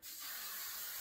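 A single steady hiss of an aerosol hair spray, close and continuous for about a second, with nothing else around it.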